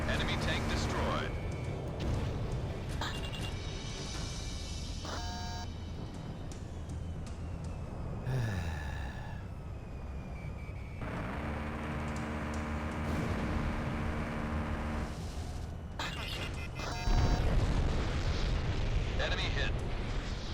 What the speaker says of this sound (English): Missile struck target. Enemy tank destroyed.